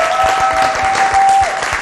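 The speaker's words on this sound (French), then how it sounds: "Est-ce qu'on peut applaudir pour ce monsieur" A short burst of audience applause for a camera operator, brisk clapping heard close with a steady electronic tone running underneath.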